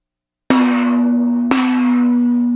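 A gong rings out twice, about a second apart: a loud, clear metallic strike with a long, sustained hum that carries into the second hit.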